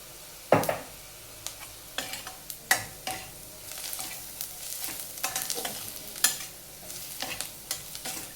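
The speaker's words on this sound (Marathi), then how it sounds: "आता मिरची पावडर पण आपण तेलामध्ये चांगली लाल होऊ देऊया" Red chili powder frying in hot oil with onions and masala for a kurdai bhaji, giving a continuous soft sizzle punctuated by sharp, irregular spatula scrapes and taps against the pan, close and clear.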